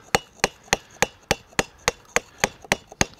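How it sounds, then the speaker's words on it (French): A mallet strikes a straight chisel on stone in a stone-carving workshop, about eleven sharp, evenly spaced knocks in a steady rhythm, close and crisp. "Pour une ciselure, j'utiliserai un ciseau droit."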